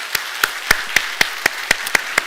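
A church congregation claps in encouragement during a service, with sharp, fairly close claps landing in a regular rhythm over a couple of seconds.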